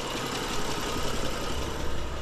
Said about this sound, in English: Our engine's running.